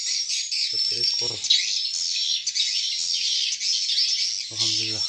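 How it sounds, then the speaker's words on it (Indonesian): Small birds chirp and tweet inside a bird house, a busy high twittering that runs throughout, with short bursts of a voice speaking nearby. "ada burung"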